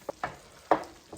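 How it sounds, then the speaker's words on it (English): Beans being stirred in a cooking pan for a New Mexico red chili ground beef burrito, giving a few short scraping and sizzling strokes, close and fairly quiet, with no voices. "Stir these beans again."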